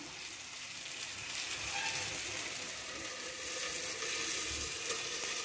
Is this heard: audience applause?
no